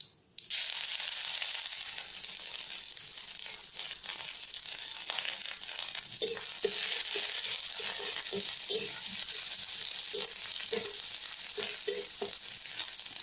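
Ground ginger and cumin frying in hot oil give a loud, steady sizzle that starts abruptly, with occasional stirring scrapes and small clatters over the constant hiss.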